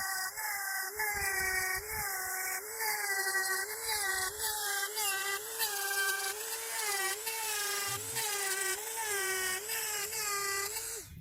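A grinding disc sharpens a blade, a loud, steady whine with wavering pitch that holds throughout, pulsing slightly as the disc bears on the metal, close and continuous with no talk.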